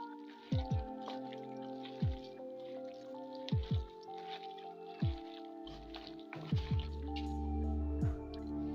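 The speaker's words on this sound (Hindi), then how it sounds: "टमाटर शामिल करूंगी और इन्हें अच्छे से मिक्स कर लूंगी।" Tomatoes are worked by hand into chapli kebab mince, making soft wet squelches and squishes at a slow, irregular rhythm, close and fairly quiet. There is no talking.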